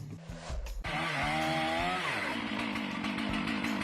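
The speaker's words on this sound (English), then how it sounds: "while sawing a tree, the saw gets stuck in the trunk" A chainsaw cuts into a tree trunk; after a few sharp revs the engine settles into a loud, continuous buzzing whine that shifts in pitch as the chain bites and binds in the wood.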